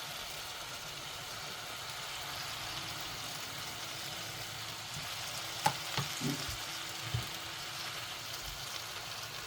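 Spinach and leeks sizzle steadily in a pan for a leek and spinach casserole, a soft, even frying hiss throughout with a few brief knocks and clatters near the middle.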